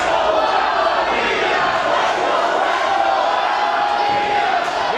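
A wrestling crowd at a Reality of Wrestling vs. Impact Wrestling event roars steadily, a dense, loud wash of cheering and shouting fans with no pauses throughout.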